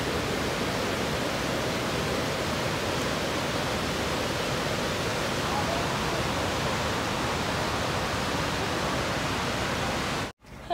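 Water pours steadily and loudly at Great Falls in McLean, Virginia, a constant broadband roar of the falls that continues unbroken and then cuts off abruptly near the end.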